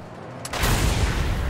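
Gunfire in Mad Max, the post-apocalyptic car-combat video game: a sudden loud blast erupts after a brief quiet lead-in and swells into a sustained roaring burst of shots and booms.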